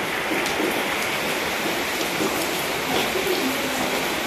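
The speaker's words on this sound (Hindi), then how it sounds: "बहुत तेज बारिश हो रही है हमारे पास आज" Heavy rain pours steadily, a dense continuous hiss of drops drumming on surfaces, close and unbroken throughout.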